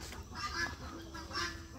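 Ducks give two faint honking calls a moment apart, heard at some distance over a soft outdoor background.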